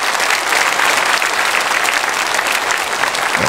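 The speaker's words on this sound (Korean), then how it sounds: "우리 성교사님들을 우리 박수로 환영하고 축복하겠습니다" Loud, sustained applause from a large congregation at a Sunday church service, steady clapping filling the whole stretch without pause.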